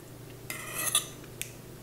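A metal spoon clinks lightly against a bowl while pelmeni dumplings are eaten, a few soft, close taps and scrapes in an otherwise quiet room.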